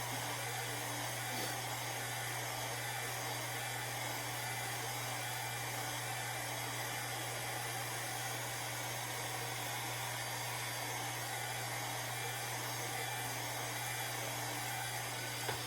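A heat tool blowing hot air over cups, a steady, loud, unbroken whooshing drone like a hair dryer with a constant low hum, running alone without pauses.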